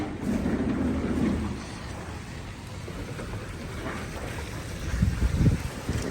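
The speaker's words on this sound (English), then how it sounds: "That wind hits you" Strong wind gusting outdoors during a blizzard, a steady broadband roar with heavier buffeting near the start and again toward the end, no voices.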